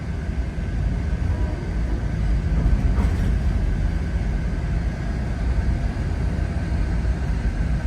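Steady low rumble of a train at rest or rolling slowly at the end of the line in Sacramento, a constant loud drone with faint hum and occasional slight clatter, no talking.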